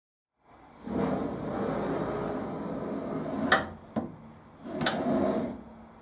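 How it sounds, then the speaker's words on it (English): The sliding door of an Emco F1-CNC machine rolls along its track with a sustained rumble, then stops with soft clunks against a new bump stop and slides again, close and moderately loud, no one speaking. "now the door closes without such a jolt"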